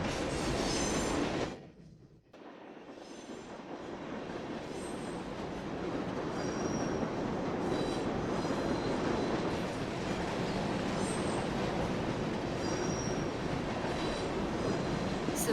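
A train runs on rails in 428: Shibuya Scramble, rumbling loud and steady with wheel squeal and rattling, briefly dropping away near the start before the noise swells back and carries on to the end.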